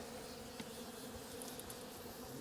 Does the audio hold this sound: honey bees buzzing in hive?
yes